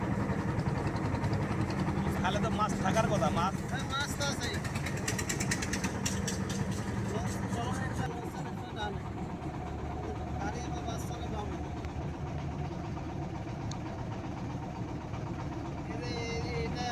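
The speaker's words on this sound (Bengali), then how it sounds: "একটি ট্রলার সামনের দিকে এগিয়ে আসছে" A river trawler's engine chugging steadily on the Kirtankhola near Charmonai, Barishal, a continuous low throbbing drone that swells slightly and then settles, heard alongside open-air ambience.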